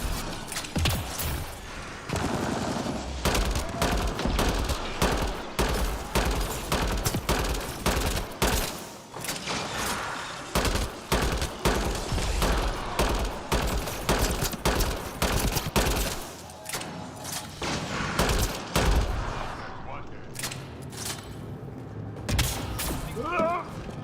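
Defense systems open fire in the Mass Effect: Andromeda game, with loud bursts of rapid automatic gunfire and booming shots in dense volleys and brief pauses, while a voice talks intermittently over the shooting.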